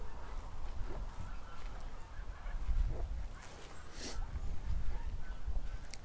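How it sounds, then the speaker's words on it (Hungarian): Geese honk in scattered, faint calls from some distance over a low outdoor rumble, the cries rising and falling irregularly. "Libák jönnek amonnan."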